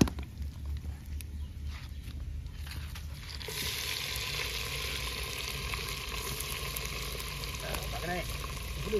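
Mutton goes into a hot clay pot over a traditional fire, and a steady sizzle builds to a fuller frying hiss with faint crackles while people talk softly in the background.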